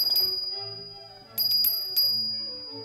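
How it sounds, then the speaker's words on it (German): A bell worn by a lead mare on an alpine pasture clangs nearby in two separate bursts of bright, ringing strikes. Each burst leaves a lingering metallic tone that fades between strikes. "Sie trägt jetzt die Glocke."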